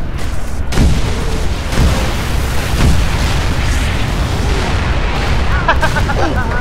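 Booming blasts from an orbital strike in the video game Halo Reach land in several heavy, rumbling hits over a steady roar of battle, with people talking over the action.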